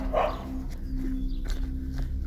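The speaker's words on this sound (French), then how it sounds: "C'est un petit chien, Max." A small dog out on a walk gives a brief bark or yip early on, followed by faint shuffling steps and rustles over a steady low hum outdoors, moderately close, with no voices.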